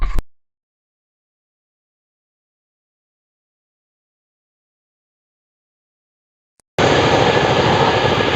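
A fighter jet engine bursts in as a sudden loud, steady roar after a long stretch of silence, lasting only the final second and a half.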